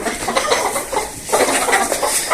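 Chickens cluck continuously nearby, busy overlapping calls with no talking.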